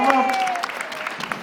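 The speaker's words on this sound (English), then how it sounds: "Everybody give Brother Poulin a round of applause." A brief burst of crowd applause for Brother Poulin at a mission gathering, with clapping and voices overlapping throughout the short moment.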